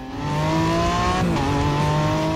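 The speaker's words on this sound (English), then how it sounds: "The big V8 engine, which churns out 560 brake horsepower, roars" A powerful 560-horsepower V8 sports car engine roars loudly up close, revving with a rising harmonic whine, dipping briefly as a gear shifts, then pulling hard again.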